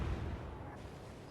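Naval guns fire in the Atlantic Fleet warship game on the Kriegsmarine side, one deep booming salvo that rumbles low and loud across the whole moment, then fades out with no voices.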